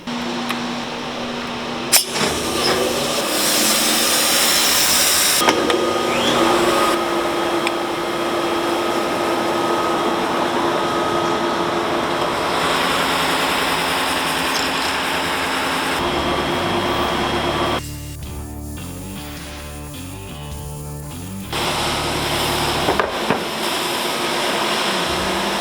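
A wide belt sander runs as a loud, steady broadband roar and whine, close by, with its tone shifting briefly near the end before the drone resumes.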